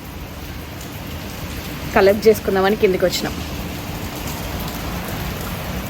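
Steady rain patters in the background in the UK as a voice speaks briefly over it.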